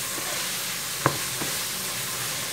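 Ground beef with onion and garlic, seasoned with salt and pepper, frying in a pan: a steady, moderate sizzle continues throughout, with a couple of brief stirring scrapes.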